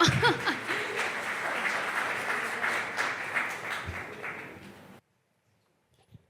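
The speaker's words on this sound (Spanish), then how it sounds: "Y un aplauso." Audience applause at a Canary Islands labor conciliation event honoring a government tourism and employment official, steady clapping with a few chuckles near the start, then cutting off abruptly into silence for the final second.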